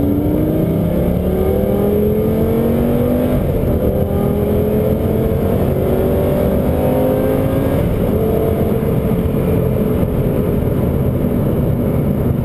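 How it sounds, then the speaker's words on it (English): A Lamborghini Gallardo accelerates hard on a test drive, its loud, close engine note climbing in pitch through several rising sweeps as it pulls through the gears, with no speech heard. "Yep, now start accelerating."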